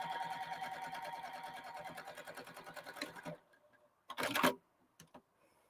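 Sewing machine stitching a reversible holiday handbag, a steady rapid mechanical chatter for about three seconds before it stops, followed by a few short knocks and rustles.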